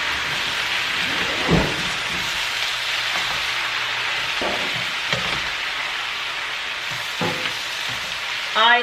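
Vegetables and meat for green chile con carne sautéing in a pan, with a steady close sizzle and a few stirring clinks and scrapes.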